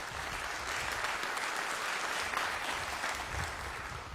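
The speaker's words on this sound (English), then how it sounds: "You can clap for that." An audience at the 2022 Orange State of the City address breaks into steady, sustained applause, a dense wash of clapping at moderate volume.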